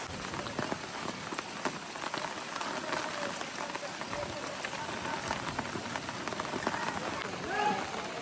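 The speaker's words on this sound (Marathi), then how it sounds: "एवढा पाऊस आहे मित्रांनो." Heavy rain in a village after two days of nonstop downpour, a dense constant hiss of drops hitting surfaces close by, with faint voices mixed into the steady roar.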